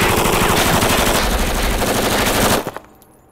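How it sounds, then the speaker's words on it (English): A fully automatic gun fires a sustained, dense burst at an ice cream truck, loud and close with rapid repeated cracks for about two and a half seconds, then cutting off into a few scattered trailing shots and quiet echo. "I got this gun, I got a ton of bullets, and I'm gonna shoot that till it's gone."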